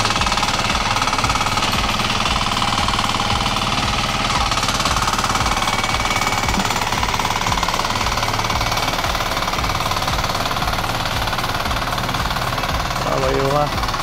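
A farm machine engine runs steadily in a rice field in Calatrava, Negros Occidental, a loud, continuous rhythmic chugging knock that carries through the whole stretch, with people talking faintly over it.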